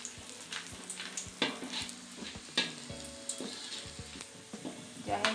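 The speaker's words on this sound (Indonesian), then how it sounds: "Kita masukkan ya sambil dioseng-oseng." Finely chopped ginger stir-fried in a hot pan for a Batak carp dish, a steady near sizzle with scattered clacks and scrapes of a spatula stirring throughout.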